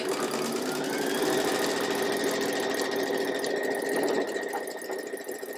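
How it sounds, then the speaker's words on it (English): A sewing machine runs a quilt seam in one continuous close whir of rapid stitching, easing off toward the end; no voices. "And we're going to sew this seam and then this seam."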